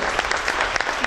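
Audience applause at a radio station event in a hall, a dense, steady burst of clapping from a crowd, close and loud through a brief moment.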